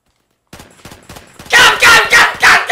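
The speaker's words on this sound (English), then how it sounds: "is it a single shot? Yeah, it's a single shot." Gunfire in the Roblox shooter Phantom Forces on Xbox One: a few faint, quick pops followed by four loud, close, booming shots in a steady rhythm.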